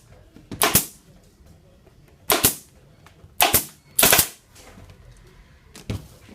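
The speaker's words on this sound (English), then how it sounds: "you can go around, putting a few more staples in" Staple gun driving staples into a motorcycle seat cover, five sharp snapping shots spaced about a second or more apart, close and loud, with quiet handling noise between them.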